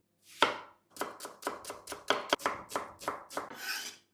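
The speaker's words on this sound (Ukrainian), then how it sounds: "Нарізаємо цибулю кубиком." A knife cubes an onion steadily on a cutting board, about a dozen crisp close strokes in a quick, even rhythm.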